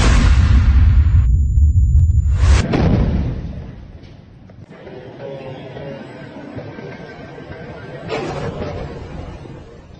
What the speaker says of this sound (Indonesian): bulldozer tersebut meledak dihujani alat peledak Al-Sakaki milik Brigade Tulkarem